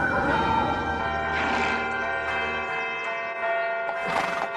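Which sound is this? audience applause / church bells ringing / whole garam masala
church bells ringing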